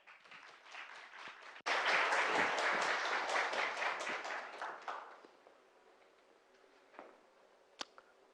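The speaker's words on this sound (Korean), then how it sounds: "큰 박수 부탁드립니다" A burst of audience applause at a corporate analysis competition starts suddenly, many hands clapping steadily for a few seconds, then fades to a few scattered claps and taps.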